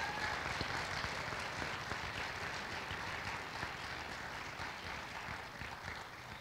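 An audience claps steadily at a Northern Vermont University-Lyndon robing ceremony for the class of 2022. The applause is a dense, even patter held for several seconds, softish and slightly distant.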